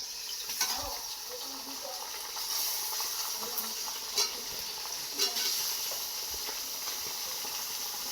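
Desi chicken meat frying in a pan with onions gives a steady close sizzle and hiss, broken by a few soft knocks and stirring clatters.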